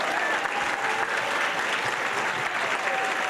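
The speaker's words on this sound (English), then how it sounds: "let's give them all a round of applause" An audience at a Boston Public Schools valedictorians luncheon applauds the valedictorians' families, with dense, steady clapping filling the room from start to finish.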